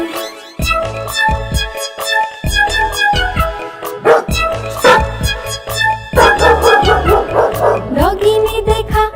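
Cartoon dog barking in a Hindi children's rhyme, repeated yips and woofs in a bouncy rhythm over bright, cheerful music, with no voices heard.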